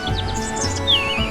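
A robin gives a short chirping phrase of a few quick notes over a steady background hum.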